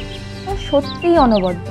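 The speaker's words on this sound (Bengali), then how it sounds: "চারিদিকে পাখির কিচিরমিচির" Chickens cluck and call close by in Sarahan, a snowy Himalayan village after a night of snowfall. The short, bright calls rise and fall over about two seconds, mixed with a person speaking.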